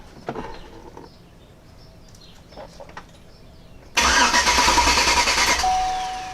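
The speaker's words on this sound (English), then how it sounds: "let me try starting the vehicle." A 2005 Chevrolet Avalanche with a rough-starting engine stays quiet at first, then cranks and fires loudly into a steady run that settles over the final seconds.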